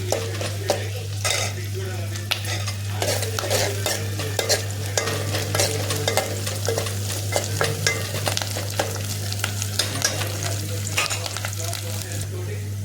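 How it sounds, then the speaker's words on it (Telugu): Curry leaves sizzling in hot oil for a tempering alongside dried red chillies, green chillies and onion, a steady crackling fry with stirring and light utensil clinks throughout, close and continuous. "కరివేపాకు తాలింపుకు"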